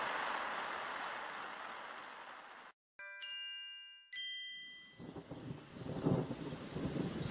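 Thunderstorm with steady rain beside a river: a broad hiss of rainfall, a brief silence, then a few bright chiming dings, and the rain returns with a low rumble swelling near the end.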